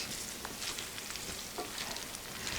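Spaghetti aglio e olio sizzles and fries steadily in a cast iron pan, with soft scraping clicks as it is stirred around, close and alone without talk.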